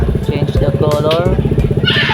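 A Honda Click scooter engine runs close by at a steady pulsing idle, a loud throbbing putter that continues throughout while a person talks over it.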